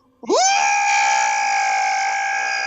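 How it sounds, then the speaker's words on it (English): A person lets out one long, sustained scream that rises sharply and then holds loud and steady, close up and on its own. "I just scream into air"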